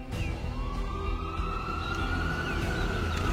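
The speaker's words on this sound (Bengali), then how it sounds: "মুহূর্তেই অ্যাম্বুলেন্সটা শব্দ করে চলে গেল।" A faint ambulance siren sounds in one long, slowly rising wail over a low traffic rumble as the vehicle drives off, used as a sound effect in a Bengali detective story.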